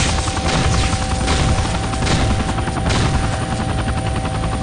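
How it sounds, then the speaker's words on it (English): A helicopter in the video game Vivisector thuds with rapid, continuous rotor chop, loud and close, mixed with bursts of machine-gun fire throughout. "Dogstone is controlling this chopper."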